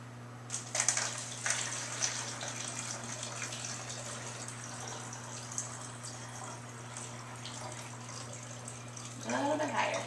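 Water trickles slowly from a pitcher into a bottle, a faint, steady pour over a low electrical hum, with brief knocks early on and a burst of gurgling near the end.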